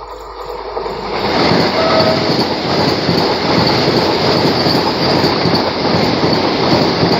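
DEMU local train on a Tiruchirappalli to Madurai run, moving at high speed with a steady, loud roar of wheels and rails that continues throughout, with no one speaking.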